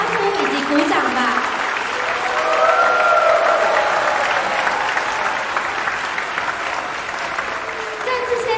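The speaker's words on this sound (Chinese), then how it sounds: "我们也热烈的为他们欢呼以及鼓掌吧" Audience applauding and cheering at a Thanksgiving concert, sustained crowd clapping with raised voices and whoops, a steady roar swelling slightly mid-way, with a voice speaking over it.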